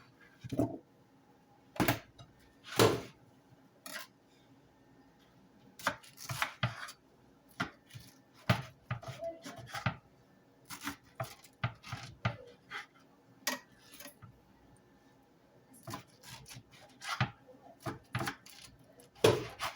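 Fresh pineapple being cut into pieces, with irregular sharp knife chops against a board and occasional clatter of pieces dropped into a bowl, close and fairly quiet.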